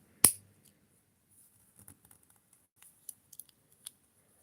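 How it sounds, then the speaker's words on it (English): Plastic Blokees Wave 9 Hero Version figure parts snapping together, one sharp loud click followed by a scatter of small, quieter clicks and taps close to the listener, with no talking. "Lots of good clicking."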